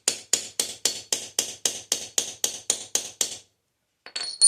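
Light hammer taps ring out in a steady run of about thirteen quick, evenly spaced metallic ticks, close and crisp, then stop before a brief scraping sound at the end.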